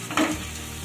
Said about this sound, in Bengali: খুব সুন্দরভাবে ভাজা ভাজা হয়ে যাচ্ছে